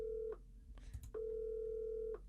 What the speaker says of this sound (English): you should see the ringing tone sound